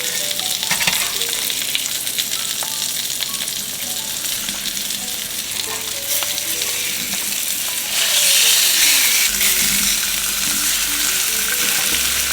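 Salmon fillets sear in a hot pan with a loud, continuous sizzle that surges brighter and hissier midway as the fish is flipped.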